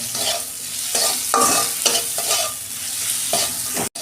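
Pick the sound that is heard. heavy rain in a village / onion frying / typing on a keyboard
onion frying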